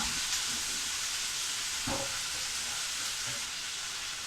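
Ivy gourd stir-fry with salt in a pan gives off a soft, steady sizzle with faint scraping stirs and an occasional light clack of the spoon, fairly quiet throughout.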